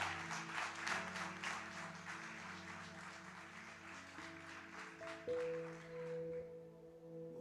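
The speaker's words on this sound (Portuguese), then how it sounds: "Se você crê nisso, aplauda o Senhor nessa hora." A church congregation claps in a dense, steady wash of applause that swells and fades over several seconds, with sustained keyboard chords ringing underneath.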